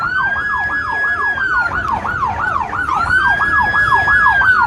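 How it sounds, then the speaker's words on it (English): Emergency vehicle sirens wail loudly in a fast, steady up-and-down yelp during street protests in Seattle, the rising and falling pitch repeating throughout alongside faint traffic. "I really don't know what they're doing with the sirens."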